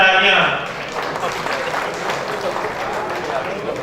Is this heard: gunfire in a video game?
no